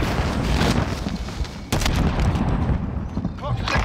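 Gunfire and booming blasts in Call of Duty: Warzone, dense and continuous across a rooftop firefight, with a sharp nearby report midway, while voices talk over the action.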